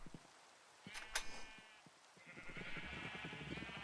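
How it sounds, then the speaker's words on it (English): Sheep bleating in the Minecraft video game, a couple of short nasal bleats over faint ambient clicks and footsteps, with a soft background hiss rising later. "Ton of sheep and one cow."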